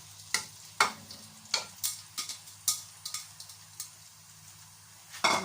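Chopped onion in a pot on the fire, with a series of irregular sharp clicks and spits over a faint low hum, moderately quiet and close.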